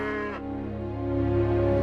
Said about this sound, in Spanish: Las vacas, las gallinas y las demás aves de corral, y el relincho del caballo.